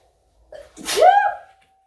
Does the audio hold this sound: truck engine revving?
no